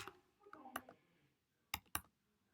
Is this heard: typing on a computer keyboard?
yes